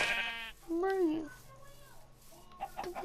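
Sheep bleats from the Minecraft video game, a few short wavering calls close up, mixed with a person talking over them.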